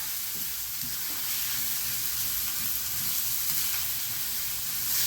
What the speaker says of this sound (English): Now we're going to saute this for about a minute or two.